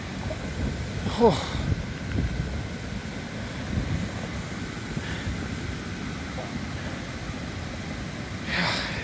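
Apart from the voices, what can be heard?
rocks tumbling down a flooded creek, thunder-like rumble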